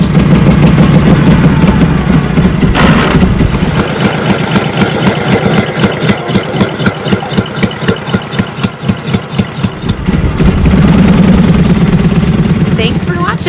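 A restored 1944 Harley-Davidson E Model Knucklehead engine idles close by with a loud, loping, uneven rhythm of firing pulses. The beat slows and loosens in the middle, then picks up and thickens again toward the end.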